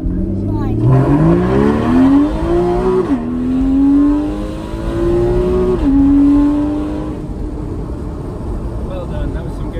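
A Porsche 981 Cayman S fitted with a GT exhaust and performance air filters accelerates hard, its engine note climbing steadily through two gear changes, loud and close, with people talking over the sound.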